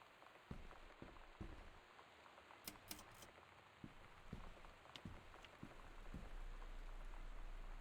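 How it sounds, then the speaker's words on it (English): Steady rain patters in the video game Gone Home, a continuous hiss with scattered drop taps and soft thuds that grows slightly louder near the end, with no talking. "Oh, it's just rain."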